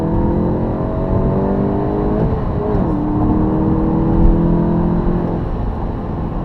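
A 2017 VW GTI MK7 accelerating on a highway drones loudly and steadily from inside the cabin, its engine tone dipping briefly at a shift from second into third gear before pulling on.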